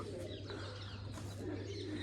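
Pigeon cooing on a rooftop loft, a low soft repeated coo close by over a steady low hum, with faint chirps from other birds.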